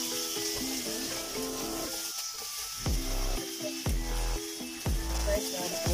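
Marinated pork frying in a pan for Chinese fried noodles, a steady sizzle with repeated scraping stirs and low clunks of a utensil against the pan, fairly close.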